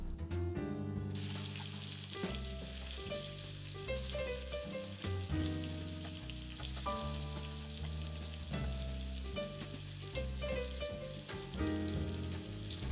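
Homemade meatballs browning in a pan give a steady sizzle and crackle, heard under fairly loud background music.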